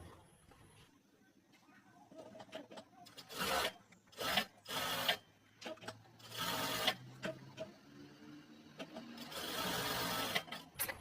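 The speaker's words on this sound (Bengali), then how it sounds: "এই মার্জিনের উপর দিয়ে আপনারা সিলাইটা নিয়ে আসবেন" Sewing machine stitching along a chalk-marked margin on cut fabric, bursts of fast mechanical whirring starting and stopping several times, fairly close, with quiet pauses in between.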